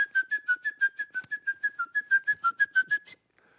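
A person pucker-whistling a quick run of short, evenly spaced bright notes, about eighteen chirps at a lively steady rhythm, close and clear, ending abruptly.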